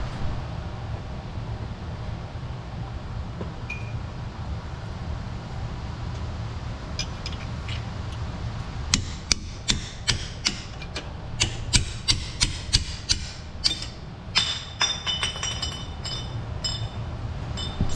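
Hammer blows on a punch driven against a stuck suspension part on a car to break a seized bond, a run of sharp metallic taps and clinks starting about halfway through, irregular and fairly close over steady low background hum.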